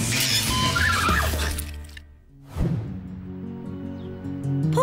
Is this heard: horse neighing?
yes